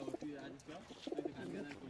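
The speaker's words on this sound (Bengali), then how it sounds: "এই যে পায়রা একটু ছেড়ে দেখালাম।" Laldum pigeons at a loft cooing softly in short repeated phrases, faint and close, with low background noise.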